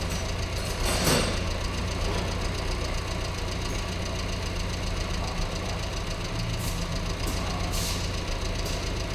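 A carburetted engine idles with a steady low rumble and faint knocking, running slightly rich, loud and close, while its idle sags and dips partway through.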